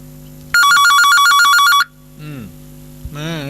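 An electronic telephone rings with an incoming call, one loud warbling burst lasting just over a second over a steady mains hum, followed by fainter tonal beeps.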